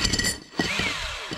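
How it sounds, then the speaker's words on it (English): A grinding, whirring power drill bites into a glass bottle with scraping and a high ringing tone, the pitch wavering as the bit works through. "that's how you drill a hole in glass"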